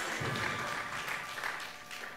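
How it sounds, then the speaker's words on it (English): Audience applause at a bartender quiz show, a dense steady patter of clapping from a crowd, moderately loud and continuous throughout without pause. "Round of applause for Tony."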